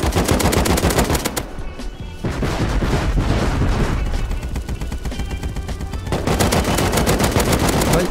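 Sustained bursts of semi-automatic AK rifle fire in the survival game Rust, loud and close, with rapid repeated shots that pause briefly near the two-second mark and again around six seconds before resuming.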